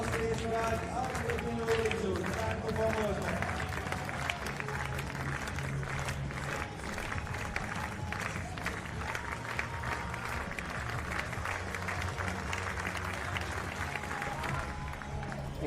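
An athletics stadium crowd at a long jump competition applauds and murmurs in a sustained wash of clapping and distant voices, while a commentator talks over it.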